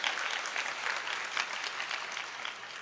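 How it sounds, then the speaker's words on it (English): Audience applause at a youth forum panel session, a steady sustained round of clapping from a sizeable crowd, evenly textured and moderately distant. "Let's give him a round of applause"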